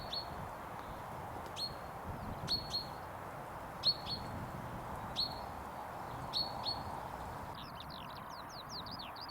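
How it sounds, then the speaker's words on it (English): A chaffinch sings in open Lincolnshire countryside near Sleaford, its short bright phrases repeating every second or so at moderate distance over a steady wind-like outdoor hush, with a faster trilling call near the end. "Chaffinch in the background."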